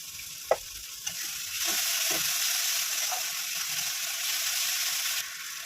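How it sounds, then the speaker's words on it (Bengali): Onions fry in a pan for a fish curry with eggplant and potato, opening with a few sharp spoon knocks before a steady close sizzle takes over and holds to the end, with no one speaking. "এবার আমি পেঁয়াজটা ভেজে নেব"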